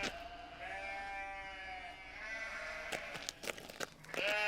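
Sheep bleating in a series of wavering, tonal calls close by, followed by clattering and shuffling noises near the end.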